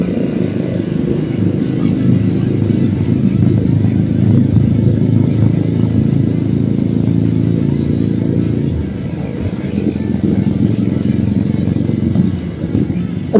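Motorcycle engine running loud and close while riding, a continuous low rumbling drone with slight shifts in pitch and a brief dip in level near the end.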